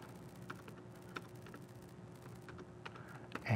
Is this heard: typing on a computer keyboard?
yes